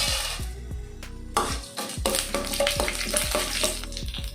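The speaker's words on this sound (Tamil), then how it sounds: "இப்போ நம்ம தாளிக்கிறதுக்கு கடலப்பருப்பு, உளுத்தம் பருப்பு எடுத்து வச்சுருந்தோம் இல்லையா, இதை வந்து ஆட் பண்ணலாம்." Chana dal and urad dal fry in ghee in a pan for tempering a thumbai keerai poriyal, giving a steady close sizzle broken by repeated metallic scrapes and clinks of a spoon stirring.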